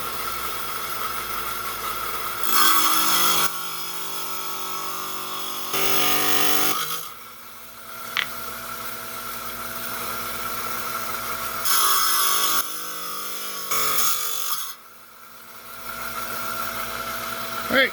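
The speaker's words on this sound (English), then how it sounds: "we're on my 5-inch high-tech trim saw. Got the rock here. We're going to trim off this excess." A 5-inch trim saw cutting rock: a steady mechanical whine and hum broken by several louder gritty grinding passes as the blade bites the stone, close-up, while someone talks over it.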